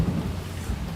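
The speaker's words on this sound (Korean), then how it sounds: "빗소리 좋아요?" Heavy rain falls with a deep thunder rumble, a continuous close wash of noise with a swelling low roll, without talk.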